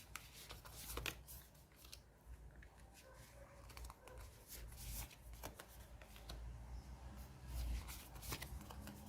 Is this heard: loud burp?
no